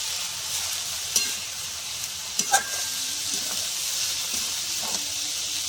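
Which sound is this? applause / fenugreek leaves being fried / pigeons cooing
fenugreek leaves being fried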